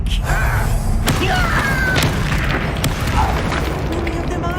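Bombarda spell explosions in the Hogwarts Legacy video game, several sharp booms and thuds at irregular intervals amid clattering combat effects, with a voice speaking over them.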